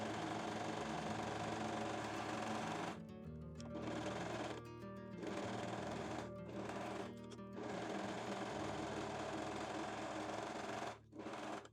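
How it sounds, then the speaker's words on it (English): A sewing machine finishes the long edge of a fabric crotch piece with a serger or zigzag stitch, running in a steady fast whir that stops briefly several times before resuming, close and continuous. "we can also finish the longer edge of the crotch piece with a serger or zigzag"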